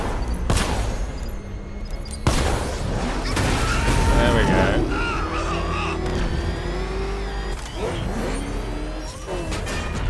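Batmobile cannon fire in Batman: Arkham Knight: loud, dense bursts of booming shots over a steady vehicle engine rumble, with a sharp blast near the start and another surge midway, continuing without letup.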